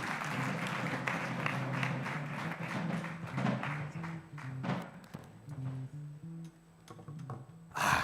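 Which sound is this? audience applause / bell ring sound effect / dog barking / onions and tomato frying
audience applause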